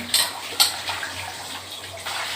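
Water runs and splashes while dishes are washed by hand, with a few sharp clinks of utensils in the first second over a steady, moderately loud flow.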